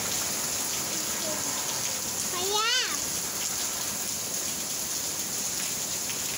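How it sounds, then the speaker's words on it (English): Steady rain patters throughout, with a voice briefly rising over it near the middle. "Gavin is playing in the rain, Sophie"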